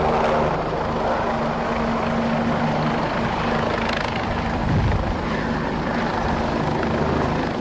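A helicopter hired for election campaigning flies with a constant loud rotor drone and engine roar, steady throughout.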